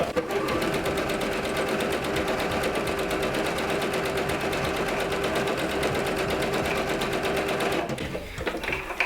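Sewing machine stitching a long basting stitch half an inch from the fabric edge, a fast, steady mechanical chatter running close and loud for about eight seconds before stopping.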